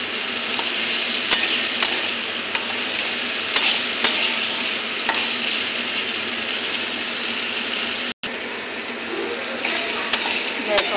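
A spoon stirs paneer with spice masala, potato, onion and tomato in a hot pan, the mix sizzling continuously with repeated scraping strokes up close, briefly cut off near the end.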